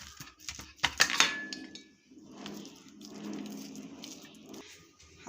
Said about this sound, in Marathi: आता आपण हे बटाटे असे स्मॅश करून घेऊया